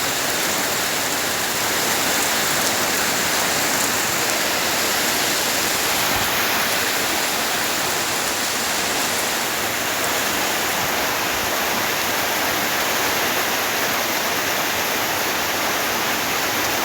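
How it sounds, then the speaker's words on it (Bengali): Heavy rain pours in a steady, dense hiss that stays loud and unbroken throughout, with no voices. "অসাধারণ বৃষ্টি হচ্ছে, অসাধারণ।"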